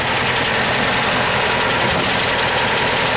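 A 1968 Volkswagen Type 3 Fastback's rear engine, mounted under the trunk floor, idles steadily at close range, a continuous loud air-cooled rumble with a dense even texture and no voices.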